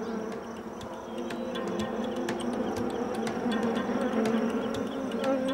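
Honeybees buzz steadily around beehives in the Provence countryside of France, a dense continuous hum with individual bees droning close by, no voices.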